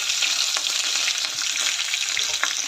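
Chilies and radish dry-roasting over low heat in a pan for a radish chutney, giving a continuous bright sizzle with occasional light stirring clicks, close and steady.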